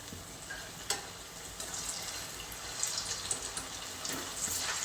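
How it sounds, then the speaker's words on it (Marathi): Potato cutlets shallow-frying in oil over a low gas flame, a quiet, steady sizzle with faint crackles and a few soft utensil clicks, no voices. "या पद्धतीने कमी गॅसवरती तळून घ्यायच्या"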